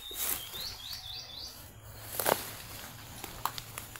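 Faint bird chirps come in a quick series of rising tweets, followed by scattered rustles and taps in a quiet outdoor setting.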